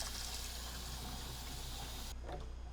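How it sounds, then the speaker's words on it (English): Cold tap water pours steadily into a plastic jug while cleaning a kitchen exhaust hood system, a constant bright rush over a low hum that cuts off abruptly near the end, leaving a quiet drip. "whenever you go to fill this up and top off the jug, always use cold water"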